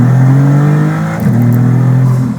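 A Maserati MC20 engine accelerates hard in a loud, buzzy drone that rises in pitch, dips briefly at a shift, then climbs again, heard from inside the car.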